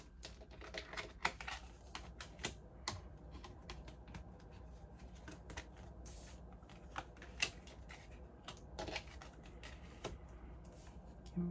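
Tarot cards being shuffled and pulled, a steady run of soft papery riffles and flicks with sharper snaps scattered throughout, close and fairly quiet with no talking.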